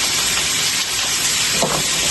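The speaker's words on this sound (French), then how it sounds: "Le mélange cuisine." Beef pastel filling sizzling in a pan, a steady loud hiss with a brief crackling flare near the end and no voices.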